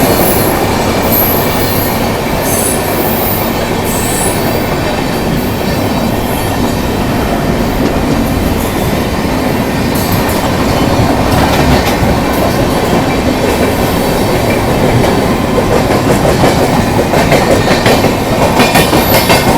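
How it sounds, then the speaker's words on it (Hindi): Poorva Express passenger train overtaking on a parallel track, a loud continuous rumble of wheels and rattling carriages with clickety-clack and occasional high squeals, heard close throughout. "ये लो पूर्वा एक्सप्रेस आ चुकी है और भाई ये पैरेलली भाई ओवरटेक कर जा रही है अपनी ट्रेन को।"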